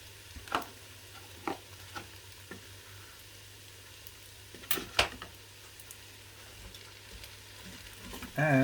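Ham, rice and vegetable stir fry sizzles faintly in a large non-stick Ninja Foodi pan, with a low steady hum under scattered scrapes and clinks of stirring.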